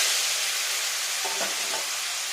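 Hilsa fish pieces fry in hot mustard oil, giving a loud, steady sizzling hiss throughout with a few soft bubbling pops, close and uninterrupted.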